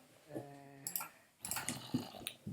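A tamed wolf in the Minecraft video game gives a short whine, then a burst of yelps and growly barks, close and fairly loud, with no talking.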